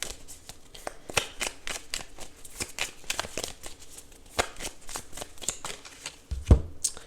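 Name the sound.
shuffling tarot cards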